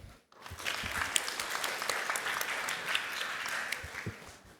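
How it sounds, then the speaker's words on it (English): An audience at a team presentation event applauds an international team from Indonesia, the clapping starting abruptly, building into steady, fairly quiet applause with a few sharper individual claps, then tapering off. "please give a big applause for our team"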